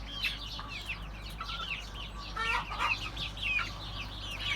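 Young Turken, Ameraucana and village chickens, grown from chicks, peep and cluck softly in a coop, a series of high, wavering calls from several birds close by over a low steady hum.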